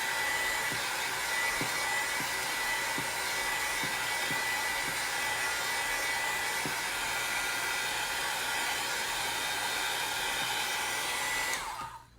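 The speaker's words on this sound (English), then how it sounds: "use this heat tool to dry it" A heat tool runs steadily for about twelve seconds, drying a Dollar Tree DIY farmhouse decor craft with a loud, constant blowing whir, then cuts off at the end, with no talking.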